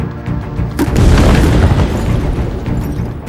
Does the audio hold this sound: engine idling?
no